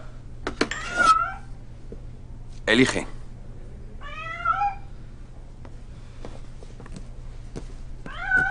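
A cat meows several times, with rising and falling calls spaced across the clip, close and clear over quiet background hum, while a person speaks briefly between the meows.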